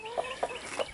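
Chickens in a coop give three soft, close clucks spaced evenly over a second, with a low background hum behind them.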